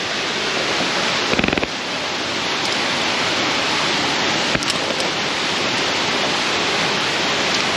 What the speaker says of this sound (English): Let's cross the waterfall.